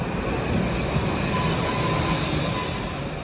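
A Tashkent subway train rumbles steadily through the underground, a loud, continuous roar of wheels and carriage with faint squealing tones riding on top, no voices.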